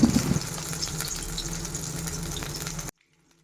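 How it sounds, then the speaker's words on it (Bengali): Shidol (fermented fish) fritters frying in hot oil give a steady, close sizzle with a few louder crackles at the start, then cut off abruptly into near silence. "তো বড়াটি তেলের মধ্যে দিয়ে দিছিলাম"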